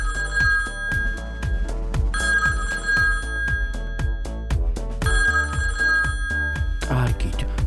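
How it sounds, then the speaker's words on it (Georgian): A telephone rings loudly in repeated electronic bursts with short pauses between, and a voice briefly speaks near the end. "ისეთი ხმა აქვს ამ ტელეფონს ყურები მეტკინა."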